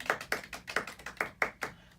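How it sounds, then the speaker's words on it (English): Hands clap in a quick, slightly uneven run of about seven sharp claps, close and fairly soft, with no voices. "clap it up for her"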